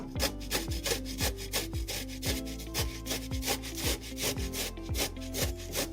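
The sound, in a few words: grating beetroot with a hand grater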